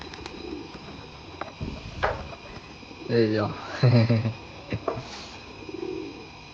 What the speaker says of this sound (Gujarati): જો અમિતભાઈ આવડું કબૂતર થઈ ગયું છે